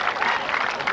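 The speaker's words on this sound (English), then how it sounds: "the crowd sympathetic with their applause" Crowd applause at a World's Strongest Man heat, a steady wash of clapping that fills the whole moment at moderate loudness.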